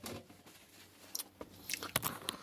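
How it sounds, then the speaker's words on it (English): Chewing chicken meat from a Maruchan chicken tortilla flavor noodle dish, heard as a few close, crisp bites and crunches that build toward the end over a quiet background. "I'll chew this meat."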